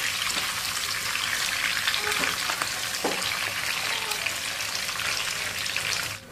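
Chicken liver and gizzard fry in not-yet-very-hot oil, giving a continuous dense sizzle with occasional stirring scrapes and small pops, close and steady.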